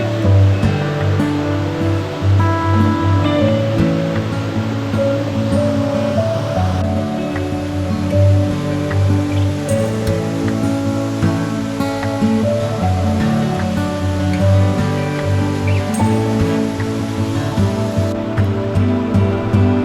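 Blaen Y Glyn waterfall in the Brecon Beacons, Wales, roars loud and steady, a close, continuous rush of falling water with no voices over it.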